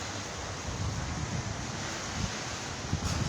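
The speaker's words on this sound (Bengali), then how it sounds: "আপনারা দেখতে পাচ্ছেন যে গাছপালাতে বাতাস হচ্ছে" After heavy rain in Chattogram, wind rushes through trees as a steady, fairly faint broadband roar with small gusty swells, heard alone without talk.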